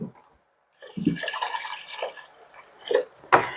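Water splashes and trickles into a pot in short bursts, with brief pauses between pours and a louder splash near the end.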